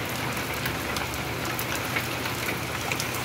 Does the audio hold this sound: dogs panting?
no